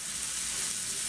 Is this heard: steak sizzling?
yes